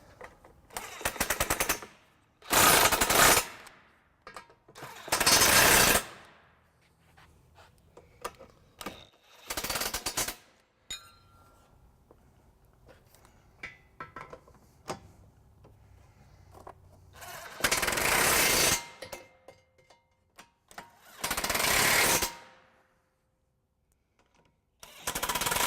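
Power impact tool tightening bolts on a trailer hitch being fitted to a 2011 Mini Cooper Countryman: several loud rattling bursts of a few seconds each, separated by quieter handling noise.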